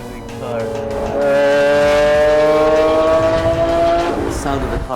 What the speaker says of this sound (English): The sound of the car, I mean the roar.